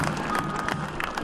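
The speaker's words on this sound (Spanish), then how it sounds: "¡Fuerte el aplauso!" A short burst of audience applause at an outdoor event where the Peruvian president inspects river works in Piura, steady crowd clapping filling the whole moment without voices.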